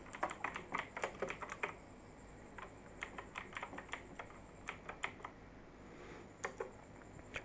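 Quiet, close keystrokes on a computer keyboard patter in irregular bursts and short pauses as TypeScript code is typed, with no voice over the clicking.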